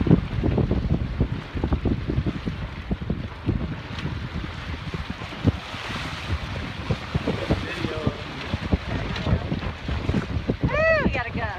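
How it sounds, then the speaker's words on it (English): Strong wind gusts buffet the microphone on a moving sailboat, rushing over water and hull noise, a voice faintly audible underneath. "we got a gust."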